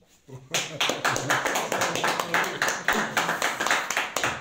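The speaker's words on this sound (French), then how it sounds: "je vous demande d'applaudir" An audience at a visit to the Condor academy applauds, starting abruptly after a quiet moment and settling into loud, rhythmic clapping from a small group, with faint talk underneath.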